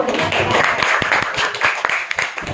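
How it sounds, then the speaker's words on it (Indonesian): A classroom audience claps in sustained, dense applause, many hands at once, steady and fairly loud throughout. "Kasih tepuk tangan dulu"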